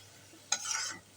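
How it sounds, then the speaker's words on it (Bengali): Spice masala paste fried and stirred in oil for a dried-shrimp Malabar spinach and potato curry; a single short burst of scraping and sizzle near the middle, otherwise quiet. "তাই আমি মশলাটাকে ভালো করে কষিয়ে নেব"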